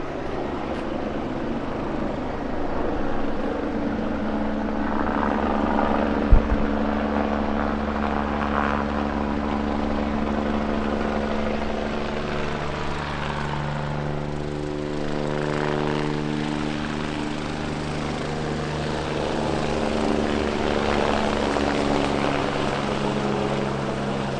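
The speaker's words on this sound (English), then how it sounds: "That's the medical helicopter, by the way." A medical helicopter drones steadily overhead with a throbbing rotor hum, holding fairly constant with no talking.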